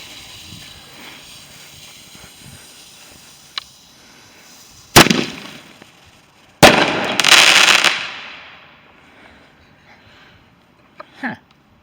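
Bonfire night fireworks go off outdoors: one sharp close bang, then a second bang followed by a crackling, hissing burst lasting about a second, with quieter pops afterwards and faint background sounds between.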